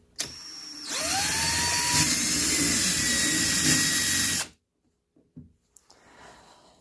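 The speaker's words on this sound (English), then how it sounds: "take my drill and just kind of drill straight down through there" A power drill bores straight down through a plastic pulk sled, spinning up with a rising whine into a steady loud grinding for about four seconds, then cutting off abruptly, followed by a few faint handling clicks.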